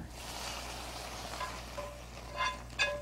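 Stroganoff being stirred slowly in a Circulon cookware pan with the heat just turned off, a soft continuous sizzle broken by a few light scrapes and clinks of the utensil near the end.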